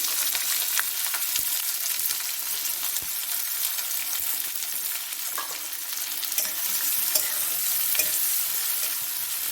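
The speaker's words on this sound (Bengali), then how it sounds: "এরপর তেলের গায়ে পেঁয়াজ কুচি দিচ্ছি" Chopped onion hits hot oil and fries with a loud, bright, continuous sizzle, dotted with small pops and stirring scrapes, close and without speech.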